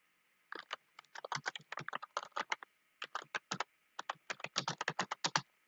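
Typing on a computer keyboard, quick bursts of close, crisp key clicks separated by short pauses.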